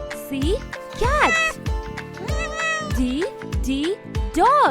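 Repeated cat meows, several close, clear rising-and-falling cries in quick succession, some overlapping with a background tune.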